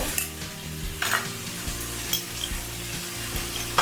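Red chilli and garam masala being stirred into veg fried rice frying in a pan: repeated scraping strokes of the spoon over a steady, close sizzle, with no talking.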